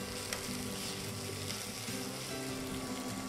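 Onion and garlic sizzle steadily in a pan with a light pinch of salt, a dense continuous crackling fry close by with no talk.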